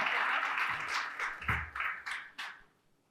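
A small audience claps after cooking demos at a frying-themed culinary event, heard as a short round of distinct, fairly close handclaps that taper off.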